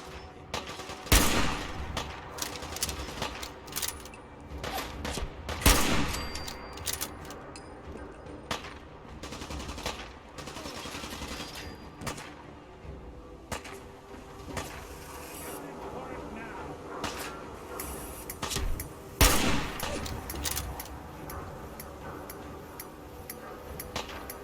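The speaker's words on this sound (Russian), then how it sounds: "Я такой понял, что стрелял." Gunfire in Fallout 4, scattered shots and short automatic bursts spread over the stretch, with a person talking intermittently between the louder cracks.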